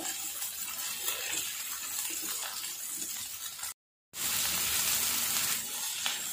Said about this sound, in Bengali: এটাও আমি ফ্রাই করে নিচ্ছি একসাথে